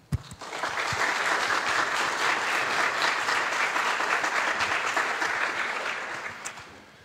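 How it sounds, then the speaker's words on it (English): A conference audience at the Liberec Economics Forum 2023 applauds to welcome a sustainability and resilience expert on stage: dense, steady clapping from many hands that rises quickly, holds for several seconds and tapers off at the end. "I would like you to welcome here on board with an applause"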